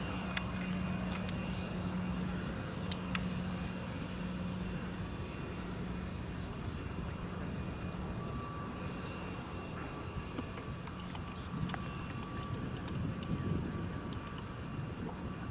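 A Global Airlines Airbus A380 taxis at Glasgow Airport, a steady low jet-engine rumble and whine that carries through the whole stretch, moderately distant and even in level.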